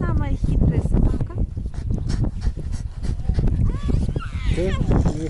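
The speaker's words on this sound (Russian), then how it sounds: "О, самая-самая хитрая собака." A dog whimpers, yips and pants close by while people talk over it almost continuously.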